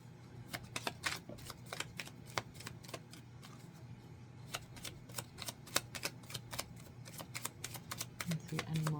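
Tarot cards are shuffled and drawn by hand: a long run of quick, soft riffling clicks and card snaps close by, fairly quiet, with a low steady hum underneath.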